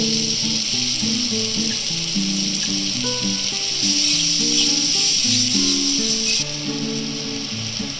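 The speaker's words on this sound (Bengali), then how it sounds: "পেঁয়াজ কুচি দিয়ে ভালো করে" Steady, bright sizzling of onions frying in a hot pan, continuous throughout, with melodic background music playing underneath.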